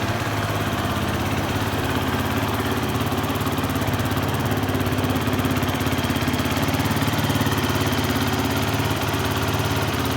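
A 350 motorcycle engine runs steadily for the whole stretch, a loud, even, rumbling drone with a fast pulsing beat and no talking.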